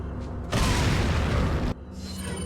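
A grenade detonates in the survival-horror game Resident Evil 4, a loud, close, broadband blast lasting about a second before cutting back to quieter ambient game sound.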